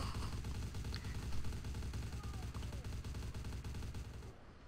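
Rapid gunfire rattles in the video game Vampire Masquerade: Bloodlines during a werewolves-versus-vampires fight, a steady stream of sharp repeated shots at fairly low level, cutting off just before the end.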